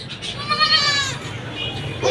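Goats and their kids bleat at a livestock market, a wavering nasal bleat up close that rises and fades, with someone talking under it.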